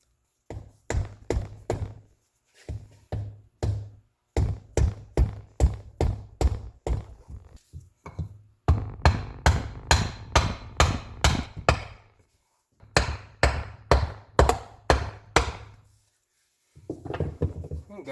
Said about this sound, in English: So I'm going to go and try to find something to slowly start tapping on each of these corners here